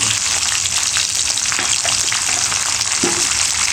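Curry leaves with red and green chilli pieces frying in hot oil for lemon rice, a loud, dense crackling sizzle with occasional stirring scrapes, close up and continuous.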